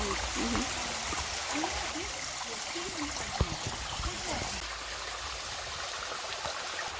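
Creek water flowing beside shade trees on an off-grid homestead, a steady broadband rush that continues at an even level throughout.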